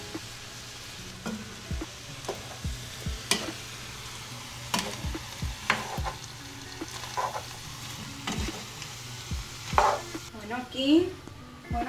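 Chicken fajitas with bell pepper and onion fry in a pan, giving a steady close sizzle broken by repeated scraping stirs and clacks of a utensil against the pan.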